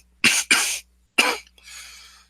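A voice acts out a sickly character's cough: three harsh, close coughs in quick succession, then a softer, raspy exhale as it trails off.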